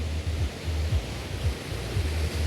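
Continuous hiss of big evening waves breaking along a seaside promenade beach at Arpachbakhshish, a dense, even wash of surf with soft rises, close and fairly loud, with no one speaking.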